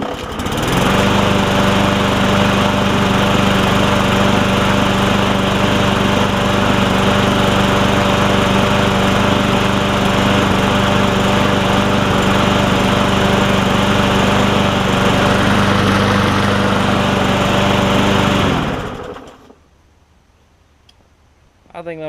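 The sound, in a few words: Murray 20-inch push lawn mower engine running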